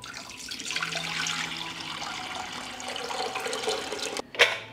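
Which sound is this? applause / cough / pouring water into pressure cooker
pouring water into pressure cooker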